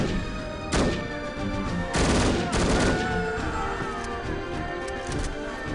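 An AK rifle fires in No One Lives Forever, with loud bursts of gunfire near 0.7, 2 and 2.6 seconds, set against game music and a busy background.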